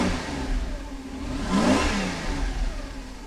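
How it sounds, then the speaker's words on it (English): A 1990s V8 hot rod with its stock exhaust and big factory muffler revs once, the engine note rising to a peak and falling back to a steady idle, close and fairly loud with no talk. "let's see if you can hear the exhaust"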